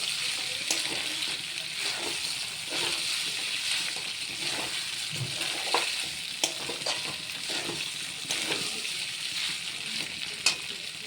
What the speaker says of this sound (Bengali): সেই পাস্তাগুলো দিয়ে সবজিগুলো ভালো করে নাড়াচাড়া করে নেব